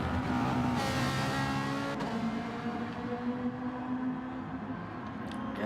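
Race cars in a Gran Turismo race at Dragon Trail Gardens or Alsace Village, engines droning and revving loudly with steady whining tones, a Ferrari among them, cars close together with brief tire noise.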